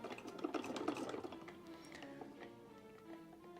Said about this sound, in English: I love your sewing machine